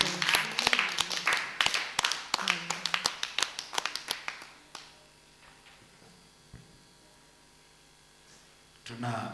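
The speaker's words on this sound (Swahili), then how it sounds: "Pigia Yesu tena makofi sasa" A church congregation at a Tuesday morning service claps hands for Jesus in a quick, loud, rhythmic burst that thins out and fades after about five seconds, followed by quiet and a rising voice at the end.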